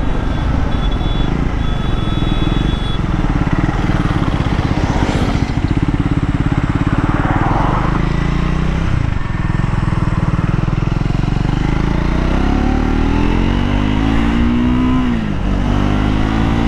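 Royal Enfield Himalayan 450 or Triumph Scrambler 400X engine while riding at about 5,500 RPM, a loud steady drone with wind rush and a couple of brief rises and dips in pitch, close throughout.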